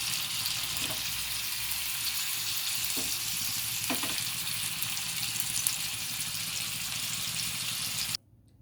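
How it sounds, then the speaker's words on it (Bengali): Chicken shashlik pieces fry in oil on a tawa with a steady, close hiss of sizzling and a few faint stirring clicks, then the sound cuts off abruptly near the end. "এই তাওয়াতে তেল দিয়ে দিলাম, আর একটা একটা করে শাসলিক আমি এতে দিতে থাকবো।"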